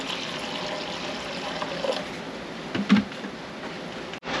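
White vinegar poured into a pot while making bread and butter pickles, a steady, fairly soft liquid stream with light splashy texture that runs throughout and cuts off abruptly near the end.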